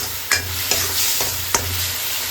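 Tomatoes fry in hot oil with salt, chili and spices while a spoon stirs them, giving a steady close sizzle broken by three or four sharp scrapes of the spoon against the pan.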